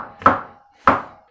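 A knife cuts champignon mushroom stems on a board in two crisp, separate chops about half a second apart, close and clear with no talk.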